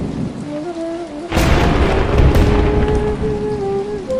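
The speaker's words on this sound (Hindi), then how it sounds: "लेकिन बारिश शुरू हो गई" Steady rain pours down with a dense hiss, and a rumble of thunder swells partway through while a tonal drone hums underneath.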